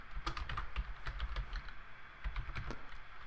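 Fingers type on a computer keyboard, a close run of quick, uneven clicking keystrokes with a brief pause midway before the tapping resumes, with no voices.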